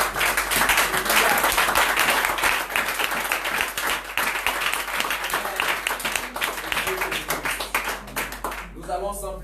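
A church congregation claps and applauds together in praise of the Lord, loud and sustained with a dense patter of many hands that eases slightly toward the end, with voices mixed in.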